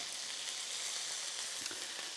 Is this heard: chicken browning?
yes